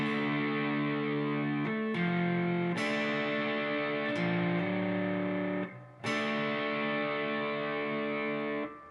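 Electric guitar through distortion and effects plays a song intro at a slow pace: sustained chords changing every second or so with a brief gap, loud and alone.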